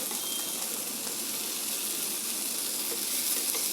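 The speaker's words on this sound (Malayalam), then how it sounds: "ഇനി മറ്റേ വശവും കൂടെ മൂക്കട്ടെ." Sardines frying in hot oil in a pan with curry leaves, a steady close sizzle and crackle running unbroken from start to finish.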